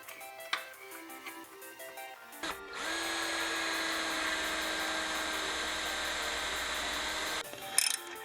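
A small power tool runs a tap to cut threads into soft metal on a Husqvarna 372 chainsaw part, whirring steadily for several seconds at a constant high pitch after faint clicking and handling, then winds down.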